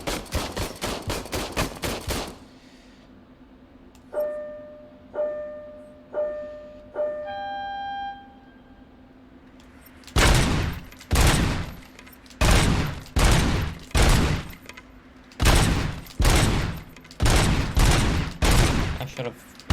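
Gunfire in RoboCop: Rogue City, loud bursts of rapid shots in rhythmic volleys, separated by a short pause filled with electronic beeping tones, then repeated heavy salvos close up.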